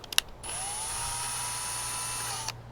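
A handheld power drill bores into a wooden brace piece while a beginner's raised garden bed is being built, giving one steady, close whine of about two seconds with no talk.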